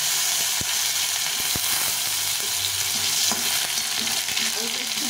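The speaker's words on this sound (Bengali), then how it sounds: "আলুটা একটু ভেজে নেব।" Potatoes frying in hot oil in a pan for a sweet pumpkin ghonto, giving a steady, close sizzle with occasional soft clicks of stirring and no talk.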